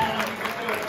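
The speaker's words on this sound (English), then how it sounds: "Give a round of applause" Audience applause at a charity auction, a steady, dense wash of clapping filling the whole short moment at moderate loudness, with faint voices mixed in.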